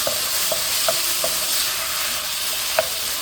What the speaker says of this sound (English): Just saute it for a little more till the tomatoes get little mushy